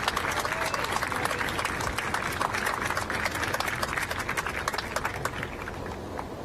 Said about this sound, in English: let's give a round of applause to all these young men right here